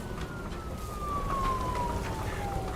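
Police car siren in the video game Nobody Wants to Die, a single slowly falling wail heard at moderate distance over a low rumbling background.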